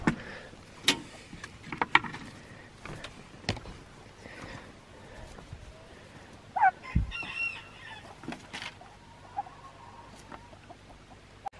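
Farm turkeys give scattered, short calls and clucks, mostly faint with one or two louder bursts, separated by quiet stretches of low background noise outdoors.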